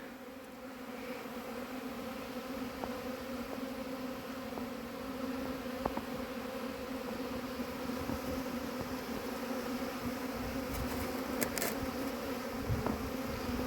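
Honeybees buzz steadily throughout at an apiary during their first spring cleansing flight, a dense continuous hum with individual bees passing close now and then, no talking.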